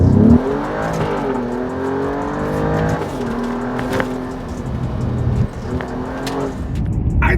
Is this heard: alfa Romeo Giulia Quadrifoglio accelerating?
yes